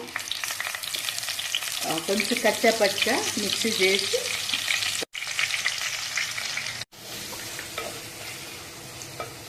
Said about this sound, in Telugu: ఇంట్లో ఉల్లిగడ్డ వేస్తున్నాను